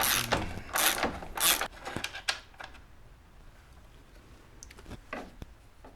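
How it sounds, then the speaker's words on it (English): A ratchet wrench works on the nut holding the carbide runner of a Pilot TS ski, giving a few close bursts of metallic clicking, then quieter intermittent clicks against faint background noise. "I'm just going to use the ratchet."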